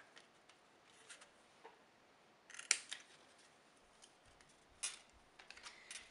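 Scissors snip through craft material while making a tropical straw-hut decoration, giving a few faint, sharp cutting clicks scattered over quiet room tone, with no one talking.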